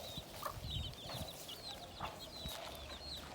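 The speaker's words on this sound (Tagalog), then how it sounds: "Ang daming manok." Chickens clucking around a Filipino farm with cocoa, mango and jackfruit trees, several birds calling intermittently at moderate distance over steady outdoor background noise.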